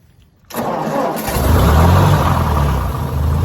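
A Ford 871 tractor engine cranks and catches after a brief quiet moment, then settles into a loud, steady rumbling run with no voices over it.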